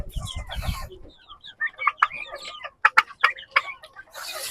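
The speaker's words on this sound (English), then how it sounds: "These are turkeys, and I have one turkey here." Farm turkeys gobble and cluck close by in a series of sharp, rhythmic calls, with a brief flurry of rustling at the start and no talk.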